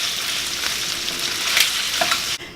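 Shrimp frying in a pan for a stir fry, a steady close sizzle with a few stirring scrapes near the end before a sudden drop in level, and no talking.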